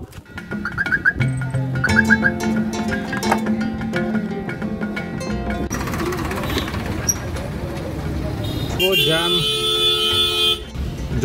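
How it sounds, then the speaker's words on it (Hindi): Traffic jam of cars heading to a temple in Barsana, with several horns tooting and honking in short bursts and longer blasts over a dense, continuous rumble of engines and crowd noise. "जो लोग अपनी अपनी गाड़ियों से डायरेक्टली मंदिर तक जाना चाहते हैं, ये उनका जैम है।"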